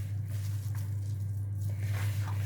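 Wet, squishy hand-mixing of pakora batter as a little water is sprinkled in, soft squelches and pats close up over a steady low hum, with no talking.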